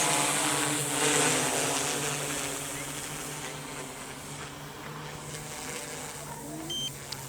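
A Yuneec Typhoon G drone lifts off and climbs, its rotors giving a steady, loud whirring hum with a constant drone tone that eases slightly as it rises, heard continuously throughout.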